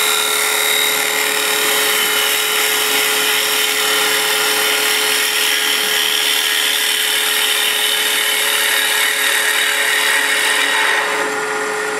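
A woodturning gouge cuts side grain on a lathe, giving a steady, loud, continuous whining hiss that holds evenly for about eleven seconds before easing off at the end.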